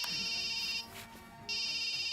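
A telephone rings in two electronic bursts separated by a short pause, clear and moderately loud, with no speech.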